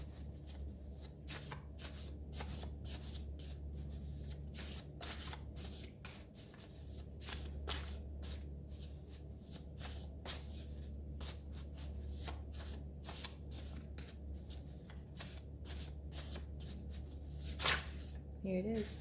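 Oracle cards being shuffled in a steady, soft riffling patter that runs throughout, close and quiet, over a low background hum, with a brief louder rustle near the end.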